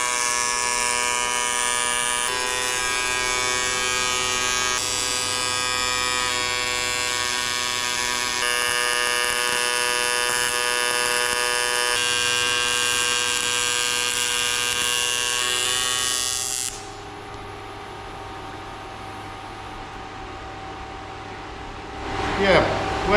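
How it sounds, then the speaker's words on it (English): Steady electric buzz from welding seams on the steel supports of an electric fat bike frame conversion. It runs loud and continuous for about seventeen seconds, then drops to a quieter room hum with a short rustle at the end. "now the supports are tacked in, so we can start and get it fully seamed. So Okay. let's weld."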